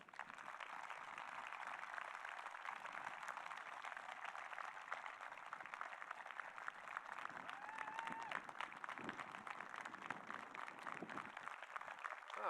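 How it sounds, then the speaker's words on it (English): A graduation ceremony crowd at Fargo North High School applauds the class of 2020, a sustained, even round of clapping from a large audience heard at moderate distance, with faint voices beneath. "Let's give them a round of applause"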